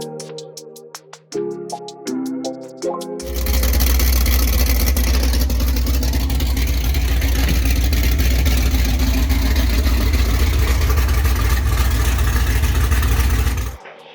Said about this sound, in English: This is what it sounds like with an X-pipe.